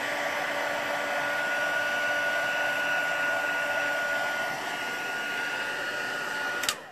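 A dryer blows steadily to dry paint on a mixed media layout. It gives a continuous close whirring hum with a faint high whine that runs for several seconds before clicking off at the end.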